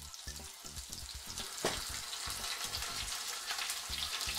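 A sirloin tip roast sears in a hot pan, giving a steady, close crackling sizzle throughout, with a low rhythmic thumping underneath and one brief sharper knock partway through.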